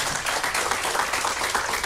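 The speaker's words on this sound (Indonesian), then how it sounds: "Tepuk tangan buat sinergi dulu dah" Audience applause in a business seminar hall, a dense steady wash of many hands clapping for about two seconds, loud and continuous with no speech over it.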